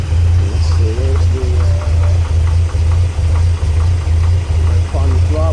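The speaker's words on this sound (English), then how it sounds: "you can see the idle probably could be a little higher, to be honest." A 1964 GMC truck engine idles close by, a loud steady low rumble with a slightly uneven pulse throughout, while a person talks faintly over it.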